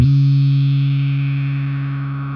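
A distorted synth growler patch with modulation holds one sustained, buzzy low note. It fades slowly over a couple of seconds and plays alone.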